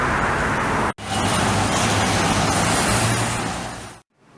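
Car traffic streams along a city street in Sarajevo, a steady broad roar of passing vehicles close by that cuts out briefly twice.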